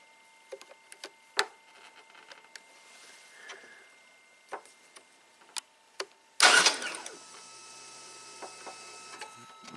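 Scattered clicks and ticks, then a Saab car engine abruptly cranks and catches, settling into a running idle that continues to the end.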